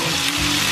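Vegetables sizzle steadily in a frying pan while broccoli, eggplant and garlic are sautéed for a homemade vegetable omelette, a continuous close, even hiss with no voices.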